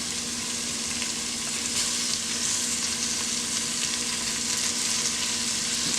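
Meat browns in a pot with a continuous loud sizzle and occasional scraping stirs, a dense frying hiss that carries on without pause and no talking.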